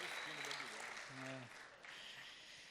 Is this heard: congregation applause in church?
yes